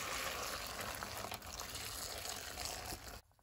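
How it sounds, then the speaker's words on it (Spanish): Hot water pours and splashes steadily over dried chiles in a container, a continuous bright rushing fill that stops abruptly near the end. "poner los chiles en un contenedor y ya solamente le vamos a agregar el agua caliente"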